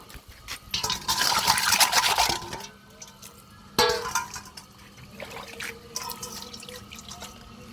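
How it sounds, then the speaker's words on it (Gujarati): Water splashes and trickles from a tap as a container is filled to set out for birds, a loud rushing pour at first, then softer drips and sloshing bursts. "થોડું પાણી ભરીને મૂકી દઉં"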